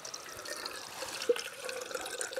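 Water is poured into a Jetboil camping stove cooking pot, a faint, steady trickle and splash with a couple of small plops, close by and quiet, with no voices.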